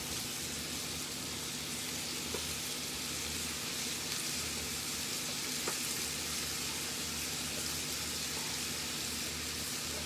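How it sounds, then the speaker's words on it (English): Roux melting in a pan gives off a steady, even sizzle of frying fat that runs the whole time without a break, fairly close and no one talking. "Let that roux melt down."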